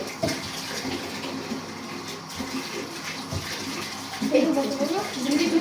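Tap water running while an item covered in rice is washed under it, a splashing, uneven flow that grows louder toward the end, with people talking faintly in the background.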